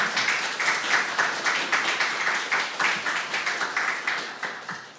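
Applause from a congregation welcoming a speaker at a Korean university Christian students' end-of-semester worship service, a steady patter of many hands clapping that rises and falls evenly for several seconds.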